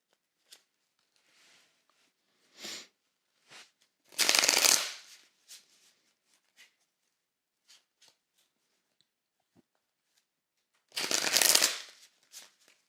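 Tarot cards being shuffled, two loud close riffling bursts separated by scattered soft taps and slides of cards being handled.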